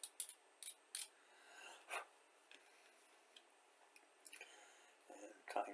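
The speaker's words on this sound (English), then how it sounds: "I'm going to trim a little at the edge" Scissors or a small blade snip and scrape at a seam on a miniature figure for painting, giving a few quiet clicks and soft rasps, close and faint.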